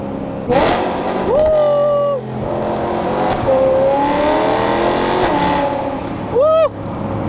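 A BMW E92 M3 with a full custom exhaust system revs repeatedly in sharp bursts, rising and falling with crackling pops between, loud and close with a throaty, aggressive exhaust note.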